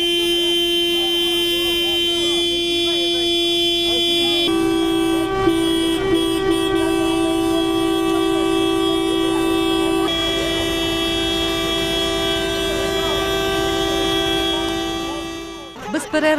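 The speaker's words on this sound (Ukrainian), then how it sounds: "Безперервні реви клаксонів зупинених машин" Car horns blare continuously from vehicles stopped by a village protest rally in Antonivka, Ukraine, several overlapping tones sustained loudly and without pause for the whole stretch.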